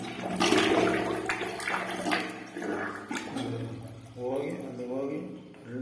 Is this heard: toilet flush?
yes